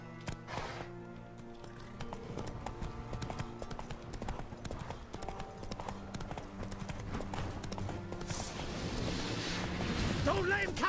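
Horse galloping in The Witcher 3 video game, rapid rhythmic hoofbeats clip-clopping steadily under a game music bed, growing louder toward the end, with a brief whinny-like sound.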